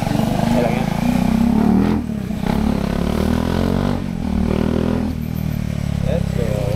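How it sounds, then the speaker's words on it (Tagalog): A loud motorcycle exhaust drones continuously up close, with a steady low rumble that dips briefly a few times, while a rider talks over it. "Lakas din yung pipe nitong motor ko."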